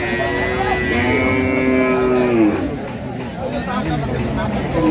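At a crowded cattle market in Dinajpur, Bangladesh, with dairy cows and calves for sale, a cow gives a long, loud, nearby moo that fades out, set against a constant hum of chatter and voices.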